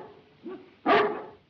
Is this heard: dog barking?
yes